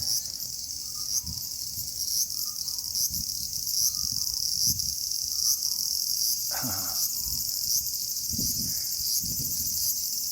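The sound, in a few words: cicadas calling in trees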